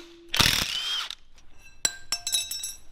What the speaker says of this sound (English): So I'm going to get this rear sway link off.